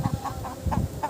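Young Aseel chicken chicks make a quick run of short, repeated clucking calls in an even rhythm, close by and clear with no voices.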